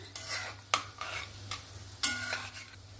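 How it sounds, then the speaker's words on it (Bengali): Gulab jamun frying in oil on low heat, a quiet bubbling sizzle broken by a few distinct scrapes and taps as they are stirred, close and faint, with no speech. "গোলাপ জামুনগুলো সুন্দরভাবে ভাজা হয়ে গেছে।"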